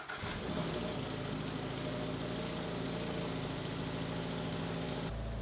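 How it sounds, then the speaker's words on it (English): Subaru BRZ with an FA24 boxer engine and equal-length headers catches with a short burst, then settles into a steady, even idle hum heard close up with no other sounds. "Now the BRZ has the FA24, so they're equal length headers, and it's not gonna sound as good when you start it up probably"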